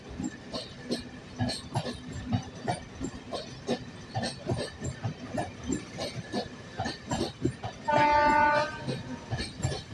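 A Konkan Railway eight-coach passenger train with a new RCF rake rolls past close by, with steady rhythmic wheel clatter over rail joints and a loud horn blast near the end.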